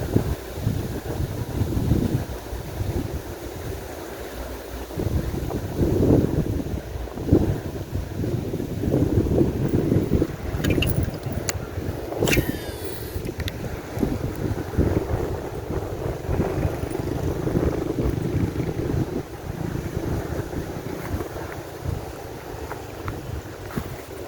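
Strong wind buffets the microphone at a fishing spot beside a riverbank with trees, a steady low roar that carries loud gusts throughout.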